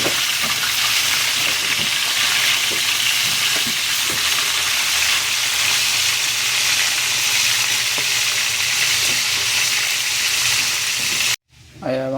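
Steady, loud sizzling of food frying in hot oil fills the clip, cutting off abruptly near the end.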